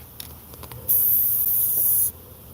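A spray can releases one steady hiss at a killer bee swarm, lasting just over a second, close and loud against faint outdoor background.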